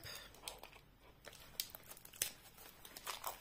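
Plastic packaging around a water bottle being unwrapped, giving soft crinkling and tearing rustles in irregular bursts close by, fairly quiet, with no talking.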